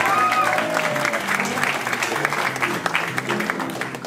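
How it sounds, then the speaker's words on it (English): Audience at an improv comedy show applauding steadily, a dense continuous patter of many hands clapping throughout, with faint voices mixed in. "Give him a round of applause, guys."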